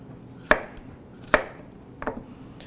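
Sharp Damascus steel chef's knife chopping vegetables on a board: two crisp, loud single chops a second apart, then a softer double tap, with no talking.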